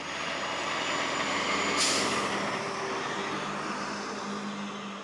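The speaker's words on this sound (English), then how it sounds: "These trucks go rumbling through, and these roads just weren't built for it." Heavy trucks rumble past on a town road with steady, loud low engine drone, and an air brake hiss bursts in near the two-second mark before the traffic noise carries on.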